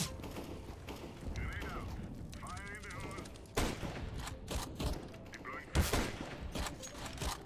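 Rapid gunfire bursts in Counter-Strike: Global Offensive free version, with sharp repeated shots and short automatic volleys scattered across the clip, some louder and closer, over a busy game background.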